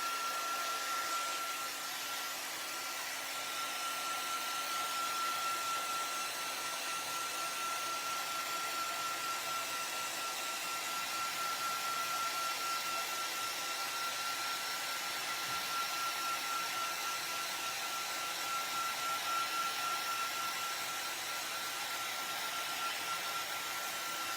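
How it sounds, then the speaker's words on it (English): A heat gun blows hot air over a surface to dry it, a steady, close whooshing drone that holds even for the whole stretch with no one speaking. "So we're going to use the heat gun and just go over this."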